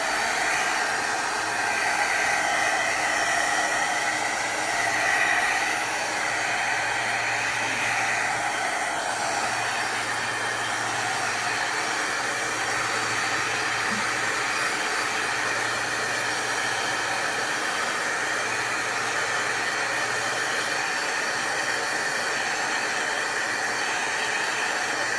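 Hair dryer blowing on a spring door decoration, a loud steady rushing whoosh that holds constant from start to finish, close with no talking.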